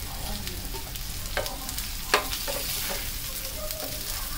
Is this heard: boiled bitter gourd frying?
yes